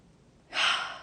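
A single deep inhalation, drawn in through the mouth and fairly close, rising sharply and then tapering off within about half a second after a quiet start.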